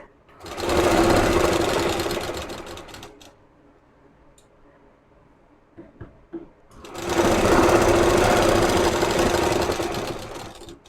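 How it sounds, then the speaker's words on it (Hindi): A sewing machine stitches a boat-neck net kurti in two long, loud bursts of rapid mechanical whirring, separated by a quiet pause with a few small clicks and handling noises. "ये देखिए ये हमने लगा दी सिलाई"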